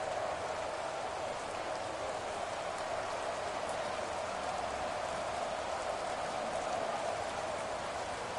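Steady rain hisses without a break in a PS4 American football video game, falling on the field at an even, moderate level with no voices over it.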